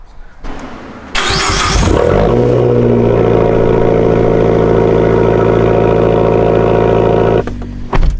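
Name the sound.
cold start of a Fiat 500 Abarth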